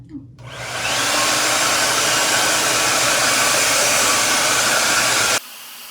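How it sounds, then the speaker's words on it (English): A hair dryer with a diffuser blows loud and steady for several seconds, then switches off abruptly. "Here's my diffuser, and we're gonna diffuse our curls."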